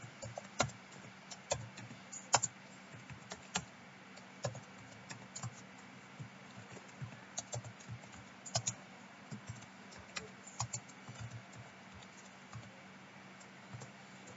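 Fingers tap a computer keyboard in quick, uneven bursts of light clicks, fairly close and quiet, with brief pauses between runs of keystrokes.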